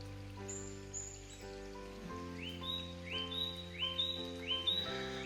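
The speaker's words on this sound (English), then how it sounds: "I also love listening to the raindrop on the forest floor and on the leaves." Rain patters softly on leaves and ground in a gentle, continuous drip, while birds call in rising whistles from nearby trees.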